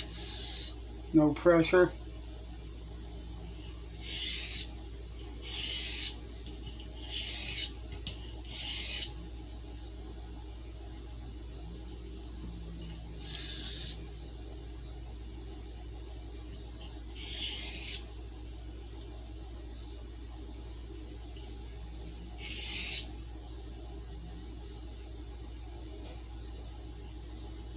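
Stockman sheepsfoot pocketknife blade being sharpened, with short, faint, rasping strokes coming in spaced groups across a quiet room and long gaps between them, plus a brief spoken comment near the start.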